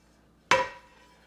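A metal pan is set down in a kitchen with a single sharp clank, ringing briefly before fading into near silence.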